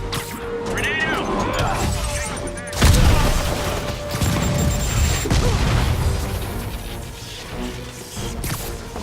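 Grenade blast in the Marvel's Spider-Man video game, a sudden loud boom about a third of the way in amid game combat clatter and whooshes, with voices talking over it.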